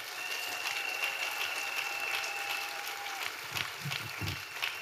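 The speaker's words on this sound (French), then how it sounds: "Clap for yourself." Applause from a church congregation during a bilingual French-English sermon, a steady wash of clapping at moderate volume filling the whole stretch, with a few low thumps near the end.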